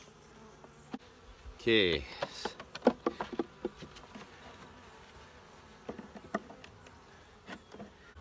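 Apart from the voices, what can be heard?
honeybees buzzing around hive frames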